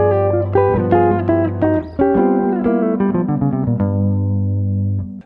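A guitar plays a blues line built from double stops, with ringing paired notes, slides and a held chord at the end, clear and close with no talking.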